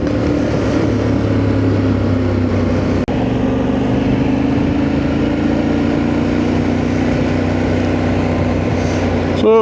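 A motorbike ridden at speed, its engine droning loud and steady with a slowly rising pitch and heavy wind rush throughout, plus a brief sharp knock partway through.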